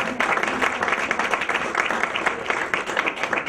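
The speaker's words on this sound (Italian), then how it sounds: "Facciamogli un applauso, veramente credetemi, non mancano mai." Audience applause at a FAI Foggia award ceremony in Italy, dense steady clapping from a crowd that fills the whole moment without a break, fairly close and loud.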